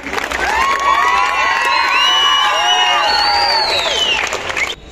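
Loud applause and cheering from a crowd at a grand celebration rally, with dense clapping, whoops and shouts sustained for several seconds before cutting off abruptly.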